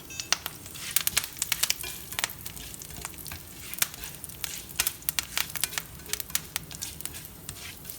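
Curry leaves fry in a pan while rasam powder is prepared, making rapid, sharp crackles and spitting pops over a low, steady sizzle, close by and with no voices.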